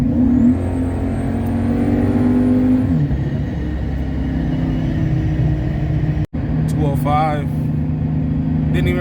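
A Dodge Charger R/T engine accelerates hard, a steady loud roar rising in pitch over several seconds, then holding under a brief dropout before continuing; a voice speaks over the later part.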